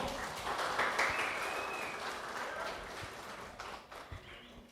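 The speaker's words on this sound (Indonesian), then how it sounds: "Mari kita nyanyikan sambutan kita dengan tepuk tangan Bapak Ibu." Wedding guests in Pedes applaud the newlyweds with a soft, continuous wash of clapping that fades slightly toward the end, fairly distant, with faint voices underneath.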